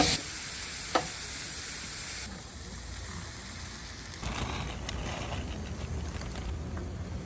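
Meat sizzling steadily in a pan at a camp dinner on a Half Dome hiking trip, a dense continuous hiss with a brief clink early on, close and even throughout.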